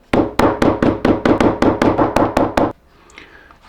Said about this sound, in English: And then it's hammer time.